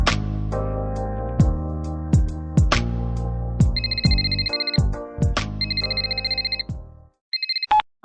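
A mobile phone plays a melodic ringtone with repeated chiming notes and electronic beeps, loud and close, continuing for several seconds before cutting off, with no voices over it.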